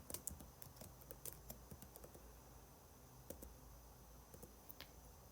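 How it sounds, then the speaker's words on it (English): Quiet, steady clicking of keys on an external keyboard used with an iPad, an irregular patter of individual taps with no voices. "As I start typing"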